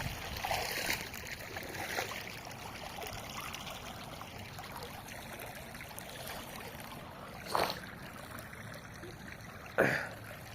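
Floodwater from heavy rain in Saudi Arabia flows past as a faint, steady rushing wash, broken by a couple of brief knocks or splashes near the end.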